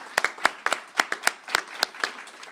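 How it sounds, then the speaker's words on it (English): A sparse scattering of hand claps from a small audience at a government announcement, a few distinct claps arriving unevenly over a couple of seconds. "Another round of applause for her, please."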